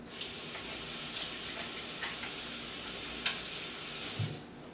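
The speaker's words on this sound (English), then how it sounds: "I'm going to wash my hands again," Water runs from a tap in a steady hiss, with a few soft knocks and splashes as hands are rinsed beneath it.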